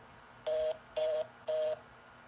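Three evenly spaced telephone dialing tones, each a short steady beep, clear and close over a faint background hum.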